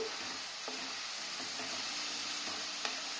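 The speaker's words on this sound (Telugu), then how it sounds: "ఈ ఆనియన్ పేస్ట్ అంతా వేగిపోతుందండి ఒక ఐదు నిమిషాలు ఉన్నాక ముక్కలు కూడా వేసి" Onion paste and bitter gourd pieces frying in a pan, a continuous dense sizzle with faint stirring taps, steady and close throughout.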